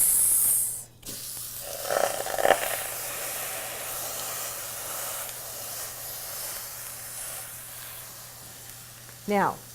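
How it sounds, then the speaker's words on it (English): A ham seared fat side down in a pan, giving a steady broad sizzle that holds evenly throughout, close and fairly loud, with a couple of brief clatters early and a short rising squeak at the end. "put it fat side down, and we're going to sear it for about 8 minutes"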